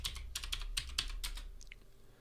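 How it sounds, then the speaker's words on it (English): Quick keystrokes on a computer keyboard as a Linux command is entered, a close, crisp burst of about a dozen taps that slows and fades toward the end. "So to actually go ahead and install it, I'm going to type sudo space apt-get space install and space git."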